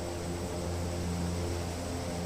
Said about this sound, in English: it's a nice little plane. A sound pack's been inserted.